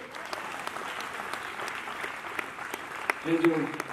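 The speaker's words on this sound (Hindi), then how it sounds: "तालियां हो जाए जय के लिए" An audience on a singing talent show set claps for a contestant named Jay, moderately loud scattered applause with a few sharp claps, and a brief musical or vocal tone near the end.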